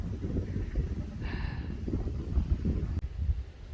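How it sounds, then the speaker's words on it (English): Steady low rumbling wind buffeting the microphone, continuous throughout with a brief faint hiss partway through. "Pretty windy up here."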